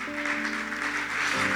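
Church congregation applauding, a steady wash of many hands clapping together at moderate volume, with a sustained organ or keyboard chord held underneath throughout.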